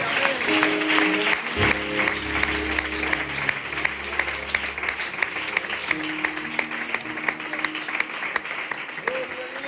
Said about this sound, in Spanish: aplaudir al Señor, que merece un aplauso al Señor.